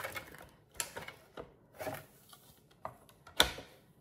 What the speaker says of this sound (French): on va prendre notre massicot pour commencer à faire les plis et la coupe